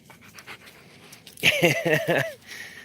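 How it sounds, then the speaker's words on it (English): A seeing eye dog pants in quick, rhythmic breaths close to the mic, preceded by soft outdoor noise from a walk along a road, with a brief whine-like sound during the panting. "That was a seeing eye dog, California Critic."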